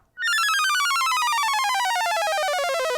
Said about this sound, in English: That's the PBS logo sound.